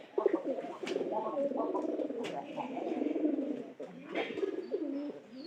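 Pigeons, a couple of them with colds, coo in low, repeated throaty rolls close by, nearly continuous, with a few wing flutters or scuffs mixed in.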